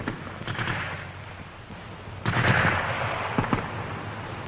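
Bursts of Schmeisser submachine gun fire crackle at a distance amid a World War II German squad assault, several rapid volleys, fairly faint and outdoors.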